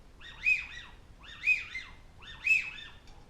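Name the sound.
widgeon duck call imitation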